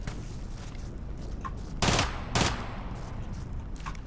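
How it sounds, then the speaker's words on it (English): Full-auto pistol fire in Tom Clancy's GRAW video game, two short loud bursts close together over a steady low game ambience, with faint lighter clicks between. "I'm only using a full auto pistol."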